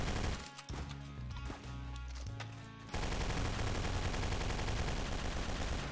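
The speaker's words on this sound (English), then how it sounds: "Then we have the Deadly Delivery. This is another AR rifle." Rapid automatic fire from the Deadly Delivery AR rifle in Garry's Mod, a loud dense burst of shots that stutters at first, then becomes a steady, unbroken rattle of fire.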